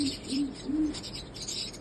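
An elderly pigeon, hatched in 2011, gives three soft, low coos in an even rhythm, close by against a faint background hiss.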